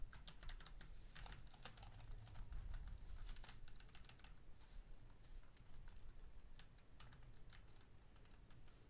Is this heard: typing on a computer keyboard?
yes